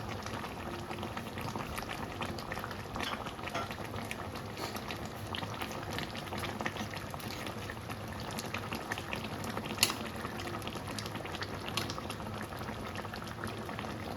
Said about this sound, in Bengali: তরকারিটা ফুটতে দেবো